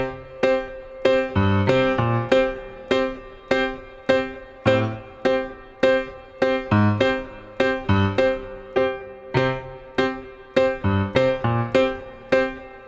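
Piano plays steady right-hand quarter notes against a syncopated left-hand part, the chords striking in a clear repeating pulse with varied accents, solo and without talk.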